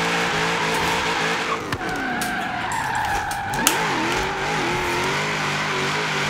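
A Holden Commodore VK drift build in Forza Horizon 3 slides with loud sustained tire squeal over a revving engine, pitch sweeping up and down through the drift, with a couple of brief knocks.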